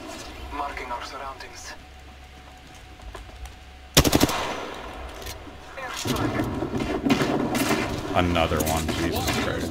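Video game gunfire rings out in a sharp burst of rapid shots, followed by louder sustained shooting and battle noise, heard under a player's excited talk.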